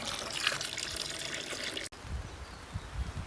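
Water runs steadily into a tub being filled for gold panning of crushed quartz, a continuous close trickling and pouring with no talk, briefly cut and then resuming with a heavier splashing tone.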